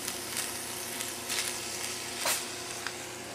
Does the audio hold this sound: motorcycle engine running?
no